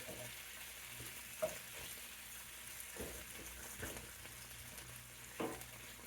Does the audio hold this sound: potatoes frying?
yes